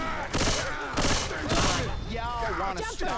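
Repeated bursts of gunfire from the zombie shooter Left 4 Dead 2 on the No Mercy campaign, loud rapid volleys in several waves, with voices talking over the shooting.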